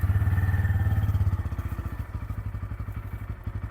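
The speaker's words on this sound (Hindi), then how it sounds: "तो आइडियल पे आपकी बाइक ऐसे साउंड करेगी। ये इसका आइडियल साउंड है।" A Bajaj Pulsar N160 motorcycle idles up close, its engine a steady low throbbing thump with a rhythmic exhaust pulse that loosens slightly into a more uneven putter partway through.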